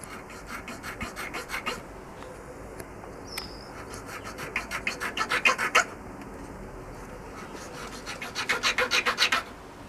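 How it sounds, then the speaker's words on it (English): Rhythmic rasping strokes of a triangular file cutting through a metal rod, in bursts of quick back-and-forth scrapes with short pauses between them, close and fairly loud. "Hold it down there and just file through it."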